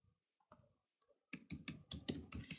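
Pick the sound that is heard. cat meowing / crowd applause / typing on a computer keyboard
typing on a computer keyboard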